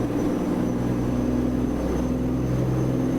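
A truck engine in the video game American Truck Simulator drones steadily and loudly throughout, a constant low hum with no change in pitch or rhythm and no voices.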